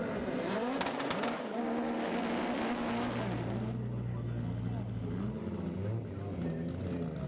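A serious front-wheel-drive Ford drag racing car at Santa Pod roars loudly with rising revs that cut off, followed by lower engine rumble and idling, while a commentator talks.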